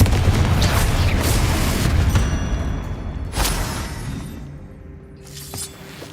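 A Confringo explosive spell blasting in the Hogwarts Legacy game, with a loud booming burst up front, a second sharp crack midway, then a fading rumble and faint debris.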